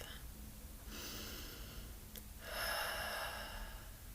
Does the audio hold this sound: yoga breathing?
yes